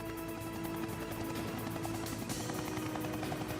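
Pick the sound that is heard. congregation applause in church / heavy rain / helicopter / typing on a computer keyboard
helicopter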